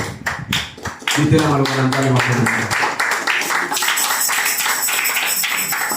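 A church congregation bursts into applause after a reading, loud clapping starting abruptly and continuing steadily, with some voices mixed in and rhythmic tapping early on.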